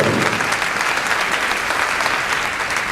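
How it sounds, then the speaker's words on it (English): Applause from a school band audience, a thick, steady roar of many hands clapping at once, loud and sustained without a break and with no talk over it. "Let's have another round of applause for Mrs. Sarmiento and everything she does for us"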